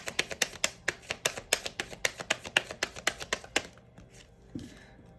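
Tarot cards are riffled and snapped in a quick, steady run of crisp close-up flutters lasting a few seconds, then the sound stops into near quiet with a single soft thump.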